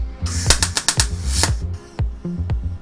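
A Sealey Supermig MIG welder at a low power setting, heard as short, loud, crackling bursts of welding that stop and start in a quick irregular rhythm, close up.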